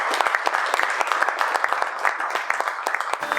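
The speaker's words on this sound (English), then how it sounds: "can we get a round of applause for Dan?" Audience applause at an entrepreneurship conference in Wilkes-Barre, a steady dense round of clapping close by that lasts about three seconds.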